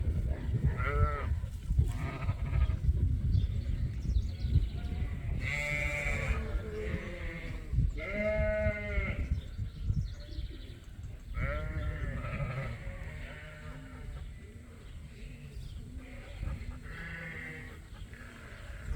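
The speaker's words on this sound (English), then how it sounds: "it's a few sheep here having a good morning scratch before they head out to pasture." Several sheep bleat on a farm in the morning as they gather before heading out to pasture, calling repeatedly in overlapping bursts, some close and loud, others farther off, over steady low background noise.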